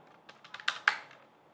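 A handful of quick clicks on a computer keyboard, close and fairly quiet, the last two keystrokes sharper than the rest, with no talk.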